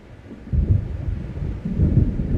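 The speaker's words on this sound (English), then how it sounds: "It seems there's a storm coming." Thunder rolls through a gathering storm in the video game Alan Wake Remastered, two deep booming swells of rumble close together, loud and without speech.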